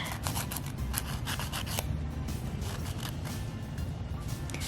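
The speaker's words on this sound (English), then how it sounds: "I'm just going to start filing the nail bed" Nail file rubbing across a fingernail bed during polygel nail prep, a close, quiet series of quick scratchy rasping strokes that continue rhythmically throughout.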